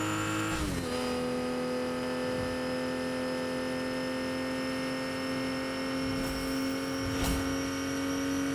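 A loud car engine drones steadily, its tone dropping early and then holding a sustained pitch with a faint electrical hum underneath, and no voices over it.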